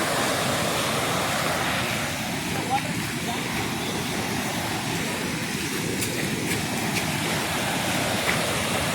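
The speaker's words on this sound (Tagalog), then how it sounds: "Ang lakas ng agos ng tubig." Strong water current at Chilling Falls in Kuala Kubu, a steady loud roaring rush of flowing water filling the whole scene without pause.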